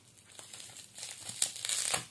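A plastic slime package is cut open up close, giving a short burst of crisp crinkling and rustling that grows louder toward the end.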